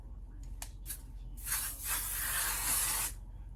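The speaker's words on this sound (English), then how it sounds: "I'm going to spray with this L'Oreal Infallible 3-second setting mist." A L'Oreal Infallible 3-second setting mist sprays in one sustained hiss of about a second and a half, close and fairly loud, after a few short clicks and puffs.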